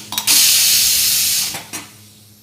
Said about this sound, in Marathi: त्याची वाफ काढून घेते